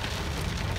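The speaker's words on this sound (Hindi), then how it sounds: "बारिश हो रही है।" Steady rain falling, a dense continuous patter with no gaps and no voices, evenly loud throughout.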